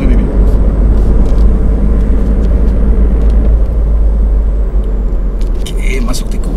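A Lexus car driving hard on a race circuit, a loud, constant engine rumble and road roar running throughout, close and unbroken.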